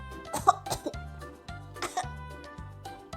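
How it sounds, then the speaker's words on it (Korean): A series of short coughs and throat-clearing bursts from a voice in a picture-book story, several quick irregular hacks close up, fairly quiet overall. "이번엔 기침이 나왔어요."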